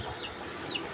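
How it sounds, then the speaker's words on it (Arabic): Hens and chicks kept together, with low clucking and soft fowl calls close by against a busy background hum, over one short second. "عندي دجاجات وكتاكيت"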